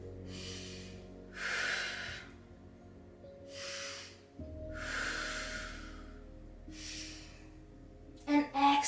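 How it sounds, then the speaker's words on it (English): Deep, slow yoga breaths during a wide-legged forward fold, alternating long airy inhales and exhales in a steady rhythm, close and soft over a low musical background, ending with a brief rustle. "taking 2 more breaths"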